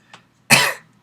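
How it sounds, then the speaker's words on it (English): A man being interviewed gives a single sharp, close cough after a faint brief throat sound, then silence. "I have to cough then."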